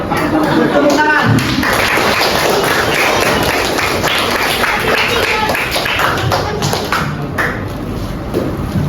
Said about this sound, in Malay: Angkat, tepuk tangan.